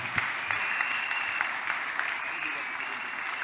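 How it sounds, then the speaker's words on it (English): A church congregation claps together in a steady, fairly even rhythm, a crowded wash of hands heard at moderate distance with faint voices mixed underneath. "Can we clap better for the glory of God?"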